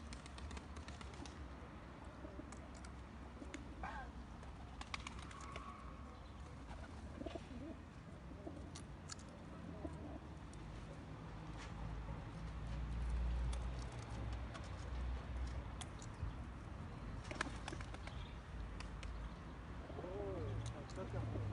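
Soft cooing of pigeons at an evening feeding, repeating here and there under quiet, distant chatter, with a low background rumble of traffic.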